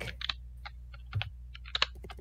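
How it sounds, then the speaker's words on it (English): Someone types a password on a computer keyboard during a game, with a scattered run of quick, light key clicks at moderate distance over a low steady hum, irregular in rhythm. "I'm typing it."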